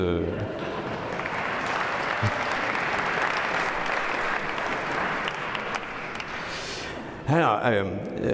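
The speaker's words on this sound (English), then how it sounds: "Yes, you can applaud" Sustained audience applause fills a lecture hall during a talk by Notre-Dame's chief architect, dense and steady before fading as a voice speaks near the end.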